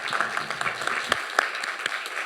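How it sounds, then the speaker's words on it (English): Audience applause at a candidates forum, a moderate room of clapping hands with irregular sharper claps standing out, steady for a couple of seconds. "Another round of applause."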